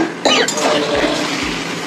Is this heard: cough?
yes